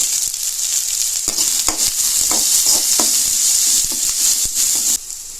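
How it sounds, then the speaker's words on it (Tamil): Onions and garlic sauté in a pan for tomato chutney, giving a loud, close, continuous sizzle with repeated scraping and stirring knocks from a spoon throughout. "வெங்காயம் கொஞ்சம் நல்லா கலர் மாறி வருது வரைக்கும் வதக்கிக்குவோம்"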